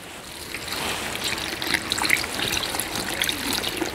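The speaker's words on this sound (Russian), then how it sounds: "И заливаем все 1 литром воды." About a liter of water poured into a cast iron pot layered with zucchini and rooster for a stew, a steady close trickle and splash that grows a bit louder as the pour continues.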